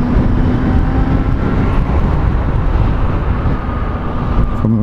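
Steady motor hum from a Super Soco TC Max electric motorcycle while riding in the evening, a continuous broadband drone with a faint high whine running throughout, close and fairly loud, with no speech over it.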